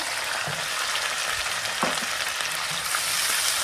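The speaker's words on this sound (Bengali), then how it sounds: "এই তো খুব সুন্দর ভাজা ভাজা হয়ে গেছে রসুন" Garlic cloves frying in a pan make a continuous, close sizzle with faint stirring scrapes, steady and uninterrupted throughout.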